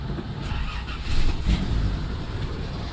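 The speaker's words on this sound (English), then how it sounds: "let me give it some gas" A Toyota FJ60 Land Cruiser engine running close by, with a brief rev that swells around the middle and then settles back to a rough idle.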